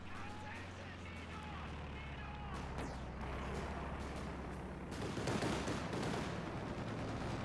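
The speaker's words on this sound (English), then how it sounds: "Surveying the battlefield as the sniper continues to open up." Sniper gunfire rolls through a strategy video game battle with an IS-2 tank among the units, irregular shots and explosions layered over steady engine rumble, growing louder near the end while a commentator talks throughout.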